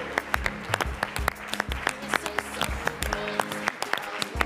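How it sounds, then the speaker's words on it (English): Audience at an annual summit opening session applauds award winners, a dense crowd of clapping with scattered sharper claps, fairly close and steady throughout, with a few faint voices underneath. "Let's give a round of applause."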